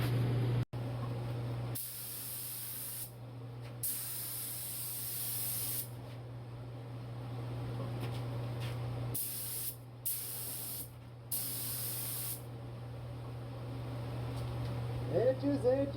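A spray gun sprays high-solids primer onto a car hood, hissing in repeated long bursts of a few seconds each, separated by short pauses, over a steady low hum.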